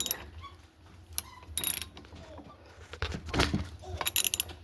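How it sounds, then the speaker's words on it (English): A 5/8 inch (16mm) spark plug wrench works a spark plug out of a Stihl SH 56 C leaf blower, with close, quiet metallic ratcheting clicks and scrapes in short irregular bursts. "for the spark plug I have a 5/8 16mm spark plug wrench right here"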